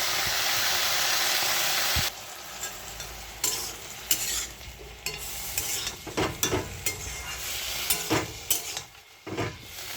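Mixed vegetables stirred and turned in a pan over low heat, with repeated close spoon scrapes and clatters against a soft sizzle, a hissing burst at the start and no voices.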